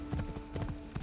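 Horse hooves clip-clopping in a steady rhythmic trot while riding along a path in a video game, close and fairly quiet, the beats repeating evenly throughout.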